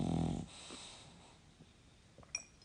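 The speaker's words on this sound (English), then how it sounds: "if you can hear snoring in the background, that's my dog, Stella." A sleeping dog snores faintly in the background, a soft wheezing breath at the start, then quiet snuffles and a small snort near the end in an otherwise still room.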